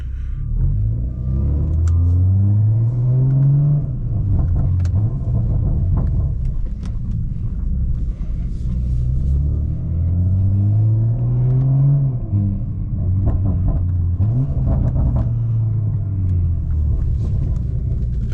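A big-turbo BMW M340i engine rumbles deeply and loudly, with repeated revs rising and falling in long swells, heard close and with no talking.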